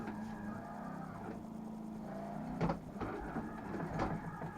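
A car drifts in Forza 6 played on a Logitech G920 wheel, a faint steady engine drone with sharp tire-screech bursts around the middle and end, no talk.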